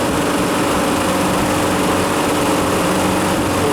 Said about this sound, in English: I think the compressor's weak.